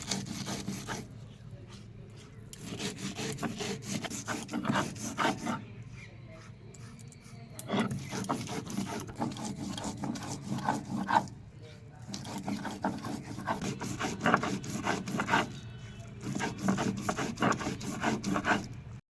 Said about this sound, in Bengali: এটাও পেস্ট করে নিতে পারেন আমি এখানে শিলে বেটে নিচ্ছি